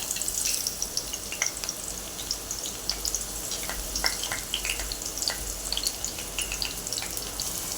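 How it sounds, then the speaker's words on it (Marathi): Onion and curry leaves frying in hot oil in a pan for matki usal: a close, steady crackling sizzle with bright spitting pops that keeps going the whole time. "झालंय छान त्यामध्ये कांदा टाकून घेऊया कांदा आणि कढीपत्ता"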